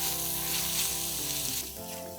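Spices for a tadka sizzling steadily in hot oil, a loud continuous hiss with a faint tonal hum underneath, no talking.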